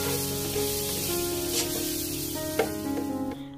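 Beans frying in a pan with turmeric, onion, curry leaves and green chilli, a steady close sizzle with small crackles and pops, no talking.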